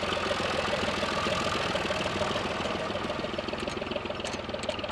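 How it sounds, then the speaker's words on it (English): A John Deere 1140 tractor's 56-horsepower three-cylinder engine idles steadily and close by, a low rhythmic throb with a faint knocking pulse running the whole time. "The 56 horsepower 1140 is powered by a 3-cylinder John Deere engine"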